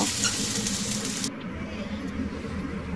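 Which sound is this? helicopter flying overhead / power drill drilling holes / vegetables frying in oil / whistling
vegetables frying in oil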